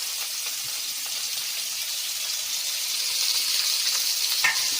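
Chopped onions, tomato and green chillies fry in hot oil with cumin and mustard seeds for oats upma, a constant close sizzle with light stirring and no talk.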